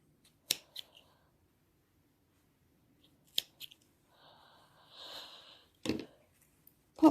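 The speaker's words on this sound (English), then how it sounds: "Trim off my loose ends." Scissors snip loose yarn ends on a crocheted bunny lovey blanket, a few sharp close clicks spaced apart in a quiet room, with soft handling rustle between cuts.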